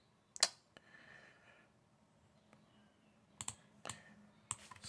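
Several sharp clicks of keys on a computer keyboard as a name is entered during a Windows 11 setup, sparse and scattered with pauses between, fairly close and quiet.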